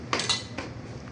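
Crispy pork salad with black pepper being tossed in a bowl, a few quick clinks of utensil against the dish, close and brief, with no talking.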